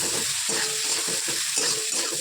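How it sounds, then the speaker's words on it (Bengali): Continuous close sizzle of cauliflower frying in hot oil, fairly loud and even, with no talking. "ফুলকপিটা এই যে ভাজছি"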